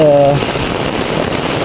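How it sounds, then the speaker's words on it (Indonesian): Heavy rain falls steadily in a quiet rural village set among rubber plantations, a loud, even hiss of downpour after a short tonal sound at the start. "nggak bisa ke sana soalnya hujan deras nih teman-teman ya"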